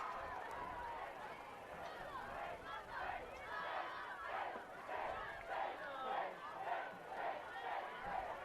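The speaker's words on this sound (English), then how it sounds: "the New Pal and Mount Vernon faithful still hanging around, cheering on their teams" Crowd at a New Palestine versus Mount Vernon high school football game, fans cheering and shouting in rising and falling swells, heard at moderate distance with a babble of voices.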